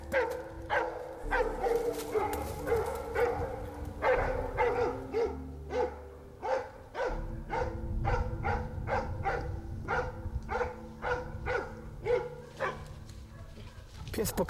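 A Polish hound barks at a wild boar in a training enclosure, giving repeated short barks and yips in uneven bursts, fairly close, while a voice talks over them.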